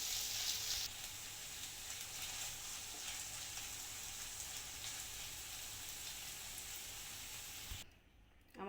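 Vegetable roll filling with coriander leaves being stirred in a hot pan gives a steady, close sizzling hiss for most of the clip, cutting to near quiet at the very end.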